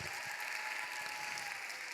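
Steady applause from a sizable crowd at a church youth service, a dense continuous wash of clapping that holds at an even level throughout.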